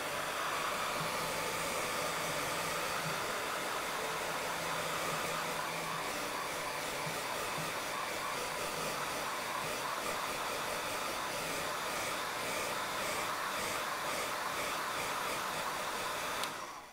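A hair dryer blows steadily and loudly at close range, a constant whooshing hum that runs without pause from start to finish.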